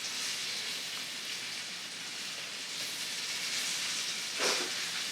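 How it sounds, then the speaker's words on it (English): Shrimp sear in a hot pan with a steady, fairly quiet broadband sizzle throughout, a brief louder crackle flaring near the end. "So I'm gonna go ahead and add the shrimp to the pan here. We want a good sear on both sides."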